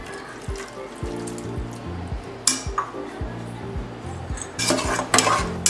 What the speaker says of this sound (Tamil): பாலோட சேர மாதிரி நல்லா கிண்டிக்கிட்டே இருங்க